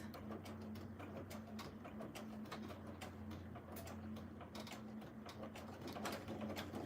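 Sewing machine stitching a tee, a steady, quiet mechanical whir with rapid ticking of the needle, running continuously and close.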